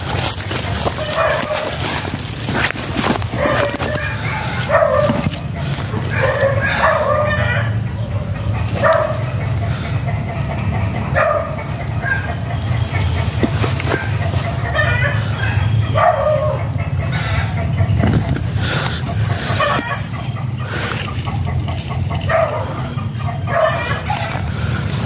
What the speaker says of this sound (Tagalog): Tumatahol yung aso mga tol.